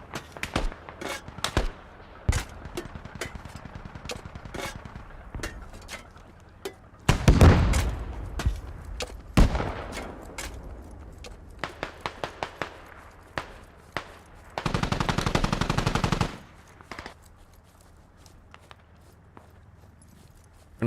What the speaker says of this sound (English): I shoot back.